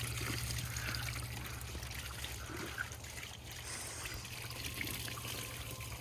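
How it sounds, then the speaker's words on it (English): Water runs through the coolant system of a 700 XC SP motorcycle, a quiet, steady trickle and dribble with a low constant hum beneath, soft and continuous with no talking. "this is a first for me, running water through the coolant system"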